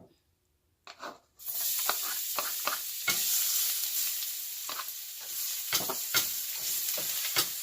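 Garlic hits hot oil for a beef afritada after a near-silent start and bursts into a bright, steady sizzle, with repeated spoon scrapes and stirring knocks throughout.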